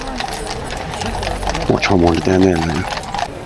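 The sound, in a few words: horses of the Blues and Royals mounted guard passing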